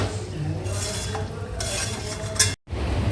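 Mutton pieces tumble into a hot pan for a Bengali mutton curry and get stirred, with steady sizzling and scraping clinks of a spoon against the pan, a brief silent gap near the end.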